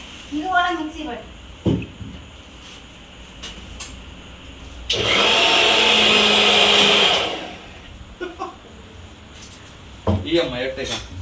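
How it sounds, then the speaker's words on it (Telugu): A kitchen mixer grinder runs in one loud, steady burst for about two seconds, whining and then winding down, while someone speaks before and after it. "ఇది కూడా మిక్సీ పట్టు."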